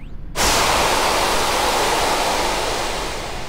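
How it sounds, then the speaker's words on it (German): Loud, steady rushing of flowing water in the sci-fi survival horror game Dead Space, bursting in abruptly after a brief quiet start and holding as a dense, close wash of noise. "Es ist Wasser."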